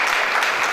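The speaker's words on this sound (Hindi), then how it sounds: "एक बार सभी लोगों से निवेदन है, जोरदार तालियों से स्वागत किया जाए।" An audience at a stage event applauding: a brief, dense wash of many hands clapping, steady and fairly loud, with no speech over it.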